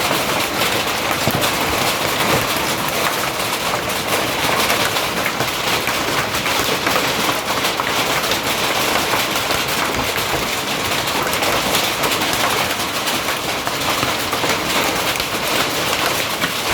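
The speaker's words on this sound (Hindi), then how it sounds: "बारिश कम हो रहा है, बर्फ़ ज़्यादा गिर रहा है।" Heavy rain mixed with falling snow makes a loud, unbroken hiss and patter that holds steady for the whole stretch, with no voices.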